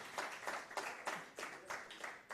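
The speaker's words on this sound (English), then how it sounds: "Round of applause for them, ladies and gentlemen" An audience at a human rights panel event applauds its arriving guests in uneven bursts of clapping that swell and fade, fairly close and full.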